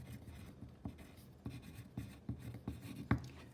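Pen writing on paper while labelling a DNA diagram, a quiet series of short scratching strokes in an irregular rhythm, close and otherwise alone.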